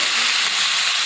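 Mixed vegetables hitting hot oil over fried onions, giving a loud, steady sizzle and hiss that stays close and constant.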